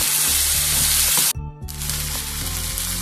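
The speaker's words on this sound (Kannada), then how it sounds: "ಇದಕ್ಕೆ ಒಂದು ಸ್ಪೂನ್ ಸೋಯಾ ಸಾಸು ಒಂದು ಎರಡು ಸ್ಪೂನು ಟೊಮೊಟೊ ಸಾಸು ಹಾಕಿ ಸ್ವಲ್ಪ ಮಿಕ್ಸ್ ಮಾಡ್ಕೊತೀನಿ" Soy sauce and tomato sauce sizzle as they are stirred into a hot pan for cabbage gobi manchurian, a loud steady frying hiss broken by a brief lull before the sizzle resumes.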